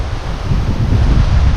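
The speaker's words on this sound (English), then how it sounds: "sorry it's really windy. I hope you can hear me" Strong outdoor wind buffeting the microphone beside a boat hull under repair, a loud continuous low rumble with gusty surges and no voice over it.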